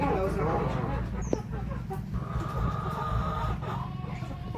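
Egg-laying farm hens cluck in a feeding area, with repeated short clucks and a sharp squawk near the middle over a dense, steady background and some faint voice activity.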